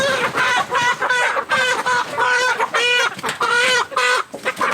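Several chickens cluck and squawk in repeated bursts, close by and loud, with brief pauses between the calls.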